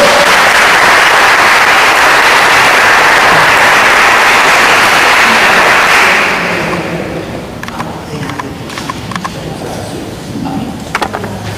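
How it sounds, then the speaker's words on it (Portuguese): A church congregation claps loudly and steadily for about six seconds to welcome the pastor, then the applause fades into sparse scattered claps and quiet room noise. "Vamos aplaudir e receber o pastor."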